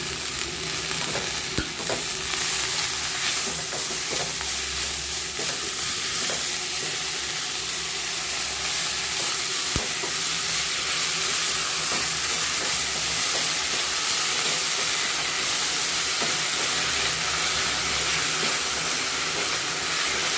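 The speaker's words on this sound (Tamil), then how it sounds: "சிம்மில் வச்சு இப்படியே வதக்கி கொடுங்க" Greens are sautéed in a pan on low heat with onion and green chili, a continuous close hissing sizzle with soft stirring scrapes and occasional clicks, no talk.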